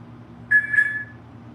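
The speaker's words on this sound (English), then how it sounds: "but he's saying, Percy the bird." A parrot gives a short, clear whistle of two rising notes over a steady low air-conditioner hum, lasting well under a second.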